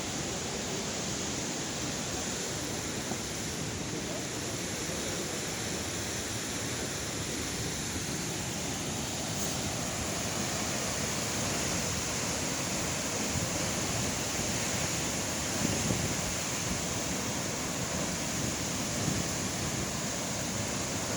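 Water cascading steadily down a waterfall, a dense, continuous broadband roar that holds even and unbroken throughout with no voices.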